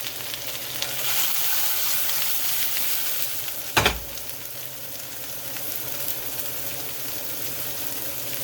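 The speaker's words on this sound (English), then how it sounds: "just give it a light fry on both sides" Shrimp and vegetables fry in a pan for fried rice, a steady close sizzle with a brief clatter partway through as the pan contents are moved.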